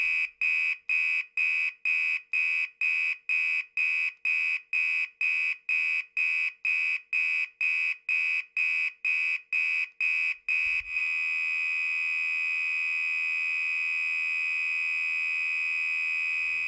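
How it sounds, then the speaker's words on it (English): A 1997 Gentex SHG fire alarm horn blares in rapid, evenly spaced loud blasts for several seconds, then switches to one continuous, steady tone. "Listen as I sound the 1997 SHG and showcase its rarer output."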